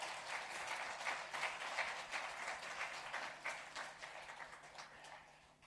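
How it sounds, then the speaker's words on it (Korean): Quiet, distant applause from a congregation during a Sunday church service, welcoming a guest, with a steady patter of many hands that gradually softens. "예, 박수로."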